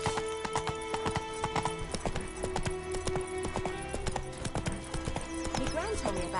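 Horse hooves clip-clopping at a steady trotting rhythm in The Witcher 3: Wild Hunt on PS5, close and clear, with game music and voices talking over the hoofbeats throughout.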